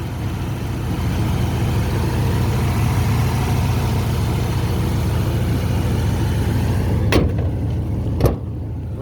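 A 1969 Camaro's 307 V8 engine idles steadily with a low, smooth rumble, close by, with a couple of brief clicks near the end.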